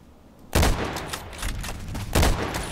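Two sharp sniper rifle shots ring out in a shooter game, M40A6 or EBR marksman rifle, each a loud booming crack with a long decaying tail, spaced under two seconds apart.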